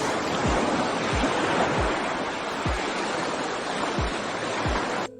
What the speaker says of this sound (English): I didn't want the sound of the waves